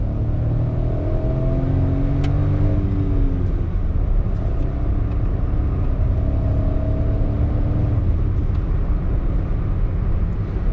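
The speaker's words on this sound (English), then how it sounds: "Now we are going to try whether faster gear shifts is possible, because this doesn't get paddle shifters" Hyundai Venue iMT car accelerating through rapid gear changes, a steady engine drone with harmonic bands that rise and drop as gears shift, heard from inside the cabin at constant loudness.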